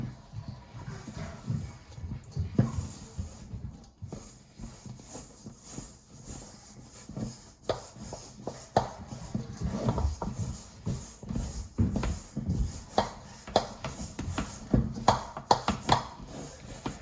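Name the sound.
mixing flour and water into shaggy sourdough dough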